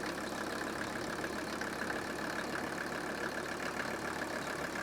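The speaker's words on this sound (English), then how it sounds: "right now it's running on all 5 cylinders" An old Mercedes 300D five-cylinder diesel engine idles steadily after a misfire on cylinder number 2 was repaired, a continuous even clattering hum heard alone throughout.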